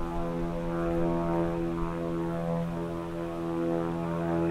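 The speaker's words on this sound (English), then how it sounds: "Up here we have a plane that's towing a glider, I believe." Propeller plane towing a glider overhead above the Appalachian Trail in New Jersey, a steady droning engine hum with a strong low buzz that holds evenly loud throughout, with no talking.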